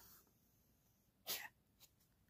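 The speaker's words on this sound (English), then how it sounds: "She's in the background sneezing." A cat sneezes once, a short sharp burst in a quiet room. A smaller sneeze or snort follows about half a second later.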